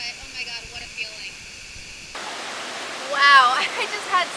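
Phnom Kulen waterfall in Cambodia, a steady rushing roar of falling water that continues while a person speaks over it.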